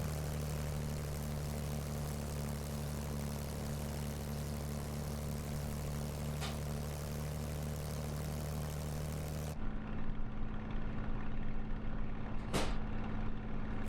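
A Spitfire propeller engine in a flight simulator game, throttle cut back, holding a steady low drone and hum with a brief whoosh midway before the tone shifts and continues, no talking.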